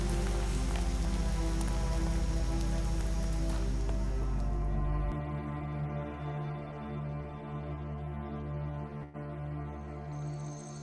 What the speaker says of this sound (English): During the time it's raining.